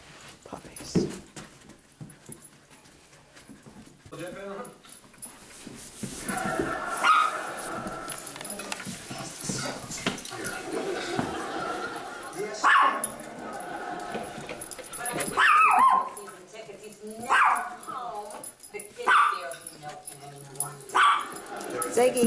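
Several puppies bark, yip and whimper in a lively, overlapping chorus close by, with a person's voice talking in between.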